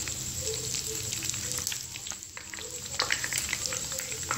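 Pieces of spicy chilli chicken fry in hot oil in a pan, giving a steady, close sizzle with scattered crackles and a brief dip midway before the frying picks up again.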